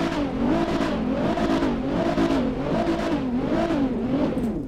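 Nissan GTR R35 engine in GTA 5, revving in a steady rising-and-falling pattern, about five rev cycles over a continuous loud engine drone with no talking.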